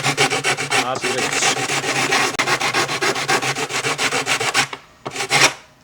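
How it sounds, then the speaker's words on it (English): A wooden SUP paddle edge is sanded square with 100 grit sandpaper on a block, giving loud, close, rhythmic rasping strokes that run almost continuously, then a brief pause and one final burst. "if you haven't cut it completely square with a block and your 100 grit sandpaper, you can just kind of sand it square"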